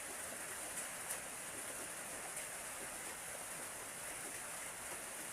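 Steady rain falls on a Thai house and yard, a dense, even hiss with scattered brighter drops, continuous and fairly close throughout.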